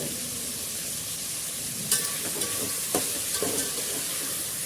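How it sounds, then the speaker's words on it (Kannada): Vegetables for avarekalu biryani fry in a pan with a soft continuous sizzle, broken by a few light clinks and scrapes as they are stirred, with nobody talking. "ಈಗ ಎಲ್ಲ ತರಕಾರಿಗಳನ್ನ ಚೆನ್ನಾಗಿ ಫ್ರೈ ಮಾಡ್ಕೊಳ್ಳೋಣ"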